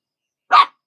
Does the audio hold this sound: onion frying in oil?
no